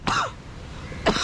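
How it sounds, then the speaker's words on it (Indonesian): Two short coughs from a person outdoors on an evening square in Malaysia, one at the start and one near the end, close and fairly loud, separated by quiet background. "batuk pula aku nih."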